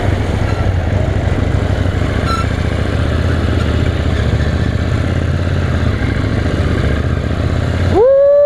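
A KTM Duke motorcycle engine idling close by, a steady low rumble throughout, with a short rising rev at the very end.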